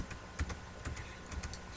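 A computer keyboard being typed on, a few quick, light keystrokes close by in a quiet room, with no voice.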